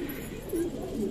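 Soft, low cooing of Patiala pigeons close by, a couple of gentle rolling calls over a steady background hum.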